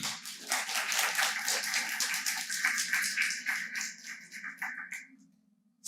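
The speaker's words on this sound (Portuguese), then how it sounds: "Um aplauso?" A church congregation breaks into applause, brisk overlapping claps that build and then thin out and fade over several seconds, with a low steady hum beneath.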